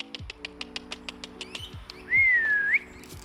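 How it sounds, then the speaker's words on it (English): A chicken keeper calls in his flock with a run of short, evenly spaced clicks or taps, then a rising whistle, heard up close on a farm. "So I'm gonna call in some of my birds right now."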